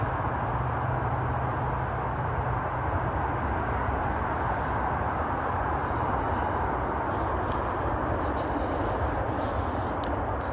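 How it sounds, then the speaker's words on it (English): Constant broadband roar of highway and freeway traffic, a dense steady wash of passing vehicles at moderate distance with no breaks or talk across the whole stretch. "The sounds of the highways, the sounds of the freeways overshadow it."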